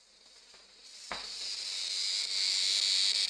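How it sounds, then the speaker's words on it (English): Cicada buzzing close by, a high, shrill whine that starts with a sudden onset after a quiet moment and swells steadily louder, droning on alone without talk. "There's the cicada."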